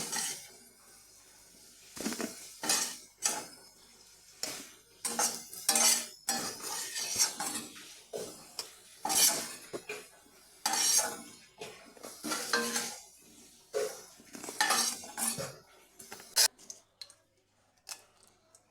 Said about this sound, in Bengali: এটাকেও আমি একটু নেড়ে চেড়ে একটু কড়া করে ভেজে নামিয়ে নিচ্ছি